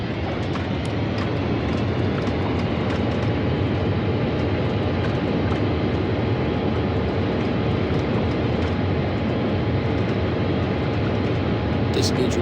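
A flight-simulator JetBlue Airbus A320-200 landing at Atlanta roars with thrust reversers engaged during the rollout, a loud, steady broadband rush that holds without a break for the whole stretch.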